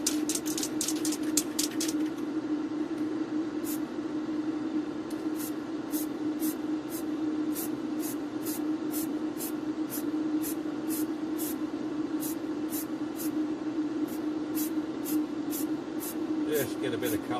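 A Dinky Toys Ford Transit (Kenwood) No. 407 model being spray painted, with short hissing aerosol bursts repeated in a quick rhythm over a steady low extractor vent hum, close and quiet.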